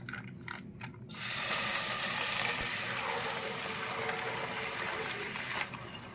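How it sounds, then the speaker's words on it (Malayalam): One litre of milk is poured onto two tablespoons of caramelised sugar in a pan for semiya payasam, and after a quiet second a loud rushing hiss bursts up, then eases slowly while staying strong. "നമ്മൾ ഇനി പാലൊഴിക്കുകയാണ്."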